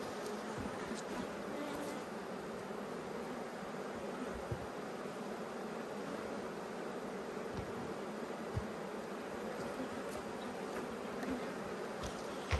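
Honeybees hum in a dense, continuous drone around an open hive, close and steady throughout, with individual bees zipping past now and then.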